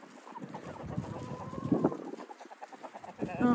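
Hens cluck and mutter in a coop on a cold December morning with a rooster among them, a steady close chorus of soft clucks and chatter with a sharper squawk midway and another near the end.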